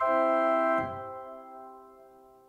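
Viscount Chorum organ chord set to a basilica reverb: a full, sustained chord that cuts off, leaving a smooth reverberant tail fading away over about two seconds, heard alone.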